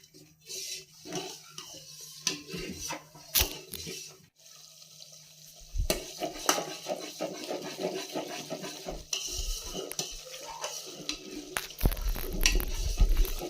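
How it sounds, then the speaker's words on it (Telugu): Ghee simmering in a pot on a low flame, stirred continuously with a ladle; soft scraping and bubbling with intermittent clinks against the vessel, close and moderately loud, no talk. "కంటిన్యూస్గా కలుపుతూనే ఉండాలి"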